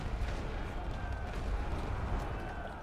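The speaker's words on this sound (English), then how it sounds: "we're pretty heavily suppressed by his artillery" Artillery bombardment in The Great War: Western Front, a WWI trench strategy game, a dense continuous rumble of distant shelling that stays steady throughout beneath muffled noise.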